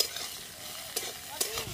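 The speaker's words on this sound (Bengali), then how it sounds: "একবার চাপাটা খুলে আলুটা নেড়ে নেব।" Potatoes fry in a pan and are stirred, giving a faint, soft sizzle. A couple of brief scraping stirs stand out near the end.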